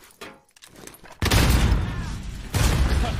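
Heavy gunfire in Call of Duty: Warzone, loud sustained bursts that start abruptly after a quiet opening and surge again near the end, close and dense.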